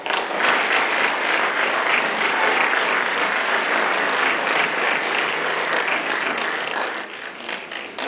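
Loud, sustained applause from an awards-night audience honoring students of the year at the LPCCTE career and technical education ceremony, a dense unbroken wash of clapping that thins slightly near the end.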